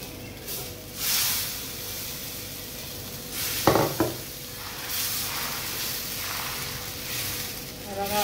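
Barnyard millet (bhagar) dosa cooks on a hot griddle with a soft, continuous sizzle, broken midway by a couple of sharp clanks from a utensil or lid, close and low-level.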